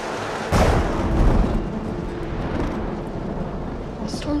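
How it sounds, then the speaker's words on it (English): A thunderstorm outside a frontier barn in the Old West: a deep, loud thunder crack hits at once and then rolls on in a long rumbling decay. "The storm's getting worse."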